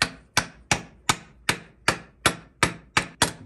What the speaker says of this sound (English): Take a rubber mallet.